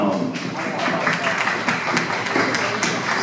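An audience applauds a guest walking on stage at a press conference, steady clapping under a host's voice and background music.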